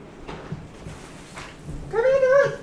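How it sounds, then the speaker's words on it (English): A cat stuck out in the rain during a stormy evening lets out one loud, drawn-out meow near the end, heard up close after quieter rustling. "I believe I have a weather cat stuck in the rain."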